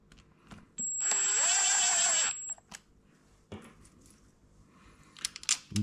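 A power screwdriver drives screws back in during engine reassembly, one short high whirring burst of just over a second, followed by quieter metallic clicks and handling of parts nearby.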